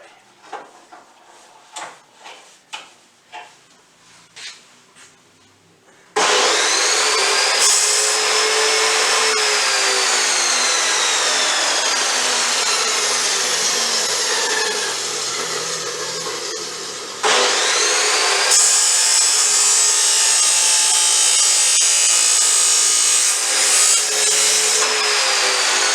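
Wood is cut at a 45-degree angle for a Nissan Patrol dropdown table: a few light knocks and handling sounds first, then a loud power saw whines through the cut for about eleven seconds, briefly dips, and screams again.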